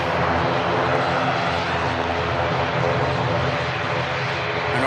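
An airliner on its takeoff roll at Manchester Airport gives a loud, steady, broadband engine roar that fills the whole stretch without easing, and no voices are heard.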